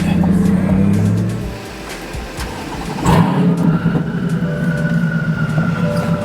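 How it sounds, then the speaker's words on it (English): A twin-turbo C8 Corvette engine fires up and revs, a loud, deep rumble that swells, dips, then settles into a steady throbbing idle. "Just firing this thing up just it just sounds amazing."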